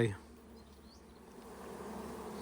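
Honeybees buzzing around an open beehive, a steady close swarm hum that swells slightly toward the end, with a brief thump at the start.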